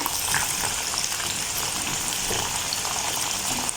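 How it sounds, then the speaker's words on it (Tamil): Round eggplant (brinjal) frying in oil in a pan, with a steady dense hiss and crackle of sizzling that carries on without a break, close and moderately loud. "வட்டு கத்திரிக்காய் பொரிவடுது"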